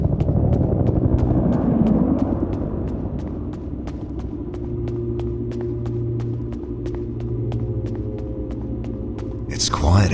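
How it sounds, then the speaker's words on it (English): An evacuation helicopter in the indie horror game Peridium approaches with a rapid, steady rotor chop over a deep rumbling drone, growing more present across the span before a sudden burst of noise at the end. "Is that the evac chopper?"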